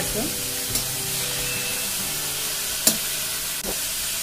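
Carrot, capsicum and spring onion sizzle steadily in a hot pan during stir-frying, with a constant hiss broken by a few clanks of a utensil.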